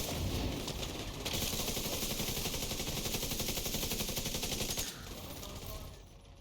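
A video game turret fires in a steady, rapid automatic stream for about five seconds, loud and close, then drops away into quieter fading noise.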